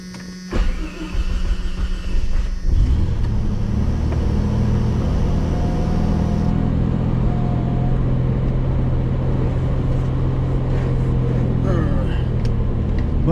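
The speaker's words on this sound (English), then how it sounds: "So here we go, take a little ride in the Jeep." A 1989 Jeep starts up and settles into a steady, loud engine rumble from inside the cab as it pulls away, with the motor droning continuously and close.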